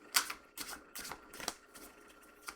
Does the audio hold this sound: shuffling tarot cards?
yes